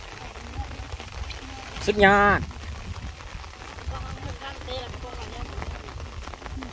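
Steady rain falls over a rice paddy during seedling pulling for transplanting, a continuous close patter, while someone talks briefly partway through.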